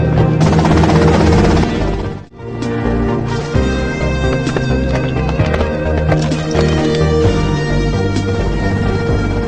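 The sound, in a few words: helicopter in video game GTA Vice City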